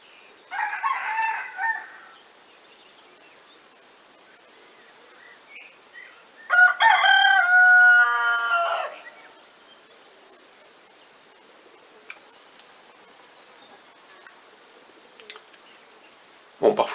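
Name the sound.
roosters crowing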